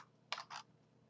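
A faint double mouse click while working in CAD software, two quick soft clicks close together within a second in an otherwise quiet room.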